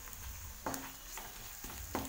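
Garlic and ginger paste frying in a pan while being stirred, a steady low sizzle with a few sharper scrapes of the spoon at intervals.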